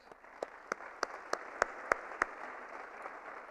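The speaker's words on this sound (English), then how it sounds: "I think another round of applause for just..." An audience applauds at an award ceremony during the inauguration of the International Women's Conference, a fairly quiet, steady patter of many hands with several sharper individual claps standing out at regular intervals.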